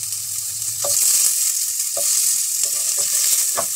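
Garlic and onions sizzle as they are stir-fried in a pan, a steady close frying hiss with a few soft stirring knocks. No one speaks.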